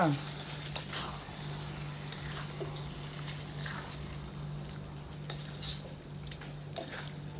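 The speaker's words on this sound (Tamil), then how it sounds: "மூடாமல் தான் கிண்டிக்கிட்டே இருக்கணும், அந்த தண்ணிலாம் ட்ரை ஆகிற வரைக்கும்" Chicken varuval fries uncovered in an open pan while being stirred, a continuous soft sizzle with scraping stir strokes and a steady low hum beneath, under faint background talk.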